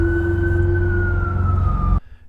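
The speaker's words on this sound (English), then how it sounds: "an emergency vehicle horn sounds from somewhere in the area." An emergency vehicle siren sounds from a horror film, a loud steady wail with a slowly falling pitch that cuts off abruptly near the end.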